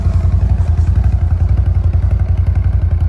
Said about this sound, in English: When it's idling, it has a note.